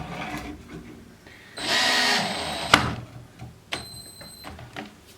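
Screws driven into wooden boards while building a filing jig: a sustained power-driver whir of about a second, then a sharp knock and a second shorter whine, close and moderately loud over a quiet workshop background.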